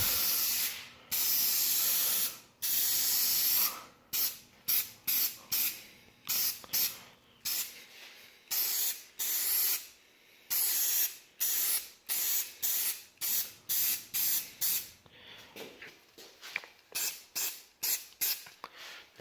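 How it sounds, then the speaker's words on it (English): Gloss Pumpkin Orange paint is sprayed from a can onto motorcycle parts for a CBR 600RR, in a run of short hissing bursts with brief gaps, a few longer passes first and then quicker spurts. "we are going to shoot a couple coats of the Gloss Pumpkin Orange, a couple test spurts, and going to lay down a very, very light first coat"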